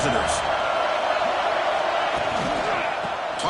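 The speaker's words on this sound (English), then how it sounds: "Listen to the crowd energy here in the early going." Stadium crowd at a Penn State–Ohio State college football game, a dense, steady roar of thousands of fans sustained throughout with no break, loud and broad, with occasional whoops rising out of the din.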